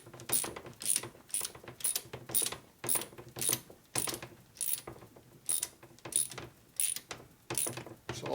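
A hand tool ratchets in repeated short clicking strokes while tightening cylinder studs on an S&S 113ci Evolution engine for a Harley, steady rhythmic bursts close to the microphone.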